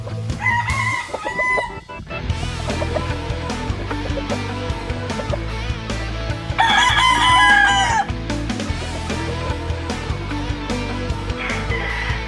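A yellow-legged stag rooster in a small backyard poultry yard crows loudly several times, with hens clucking and other fowl calling around it; no one speaks.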